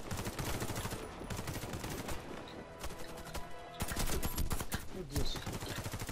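Rapid gunfire from the Warface video game, dense and loud with bursts of automatic fire running throughout and a heavier volley near the end, over a busy game soundtrack.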